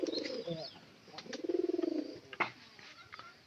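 A pigeon cooing nearby in a series of soft, low rolling coos with a brief pulsing trill, interspersed with faint chirps and clicks from other birds in the background, fairly quiet and without speech.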